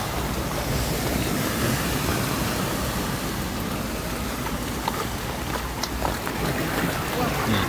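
Floodwater waves wash against the roadside on a flooded stretch of Nawamin Road in Bangkok, giving a steady, loud rush of churning water with wind buffeting the microphone throughout.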